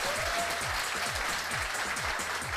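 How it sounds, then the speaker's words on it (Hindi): Audience in a Hindi-language motivational seminar claps loudly and steadily throughout, a dense continuous applause with no talk over it. "ताली मर्दों वाली बजाइए"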